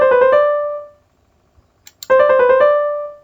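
A melodic turn ornament, a quick group of four notes, is played twice on a clear sustained tone, each figure ringing out and fading, with a short silent gap between the two.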